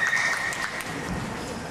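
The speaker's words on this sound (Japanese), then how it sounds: "拍手お願いします。" An audience at a live concert claps for the band's bassist during member introductions, a soft, even patter of applause heard from a distance.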